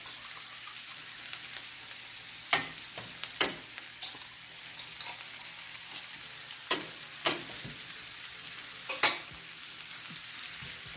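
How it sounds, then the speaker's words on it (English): Spoon scraping and clinking inside a glass jar of chili crisp, a quiet series of irregular sharp ticks and scrapes over a soft background hiss, with no talk. "The yummy stuff pools at the bottom, so I give it a good stir first."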